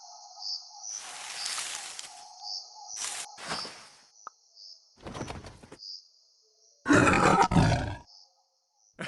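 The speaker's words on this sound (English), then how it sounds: "Lion." A lion roars in a few rough bursts, set among short musical chimes and sound effects, with a louder final roar.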